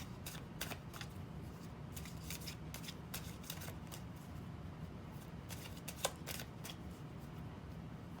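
A deck of Sibylla fortune-telling cards is shuffled steadily for several seconds, a soft continuous riffling and flicking of card edges up close, with no one speaking.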